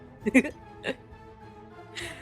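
A person hiccups a few times in quick, short, voiced bursts close to the microphone, separated by brief pauses.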